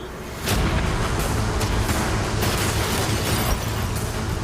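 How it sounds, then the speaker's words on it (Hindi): Cannons fire at a yacht in a loud outdoor challenge, a heavy boom opening into a sustained roaring rumble that stays dense and close throughout. "कैनन्स को तैयार करो। देखते हैं तुम पिछले वाले कैनन्स के हमले से कुछ सीखे हो या फिर नहीं। फायर!"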